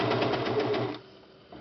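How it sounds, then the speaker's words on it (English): Serger overlock machine stitching the fabric of a fitted baby diaper: a rapid, rhythmic mechanical whir lasting about a second, then stopping abruptly and leaving near silence. "So serge till you're close."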